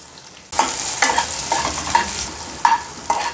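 Onion dropped into hot oil with cumin and mustard seeds for tamarind kadhi, bursting into a loud sizzle followed by rhythmic scraping stirs of a spoon in the pan.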